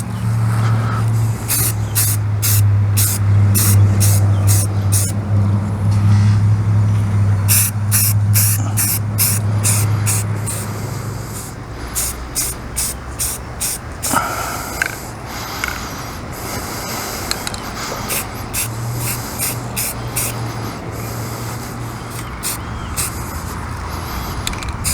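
Aerosol spray paint hissing in repeated short bursts onto a brake caliper outdoors on a windy day, loud and close, with wind noise underneath and no talking.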